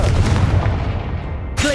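Loud, dense fire-spell blast from the video game Hogwarts Legacy, a sustained booming burst that fades over about a second and a half before a short spoken word.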